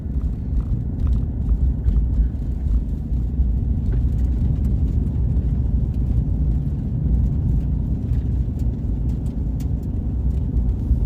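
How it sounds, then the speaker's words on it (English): Ford Maverick hybrid pickup on the move, heard from inside as a steady low engine and road rumble with tyre noise, continuous and even, with no one talking. "I did get the request to have a bit of drive footage where I'm not talking so we can really hear the vehicle."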